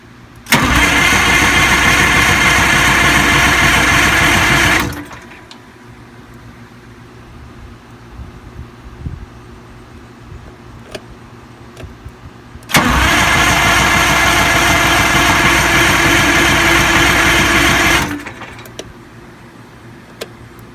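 A 6V92TA two-stroke diesel engine cranks loudly and steadily in two long bursts of about five seconds each, close by, separated by a quiet pause with faint clinks, and no voices.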